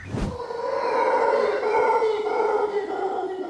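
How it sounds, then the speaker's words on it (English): A troop of black howler monkeys at the Santa Ana Zoo in California howls together in a loud, sustained, roaring chorus close by, the deep droning calls overlapping and swelling after a brief thump at the start. "It's the sound of a troop of black howler monkeys doing what comes naturally."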